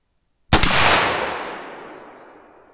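A single loud .357 Magnum gunshot, likely from a 4-inch or 18-inch barrel during chronograph testing, erupting as a sharp close blast after silence and rolling into a long decaying echo.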